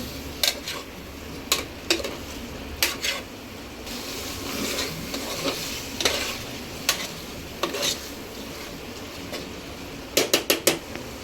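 Mutton curry ingredients being stirred together in a Telangana-style pot, with a steady soft scraping rustle broken by sharp clinks of the spoon against the pot at irregular moments, close and alone without talk.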